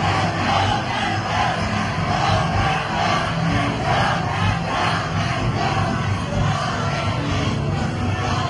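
Loud, dense crowd of Duterte supporters shouting and cheering at a rally near the ICC in The Hague, a continuous roar of overlapping yells close and full for the whole stretch.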